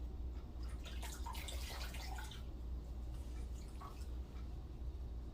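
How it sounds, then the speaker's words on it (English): A washcloth and a foot are dipped into a basin of water during foot care, producing soft, faint splashes and drips, with a brief cluster of sloshing early on and a quieter drip later. "we grab our first washcloth and put it in the water along with her foot"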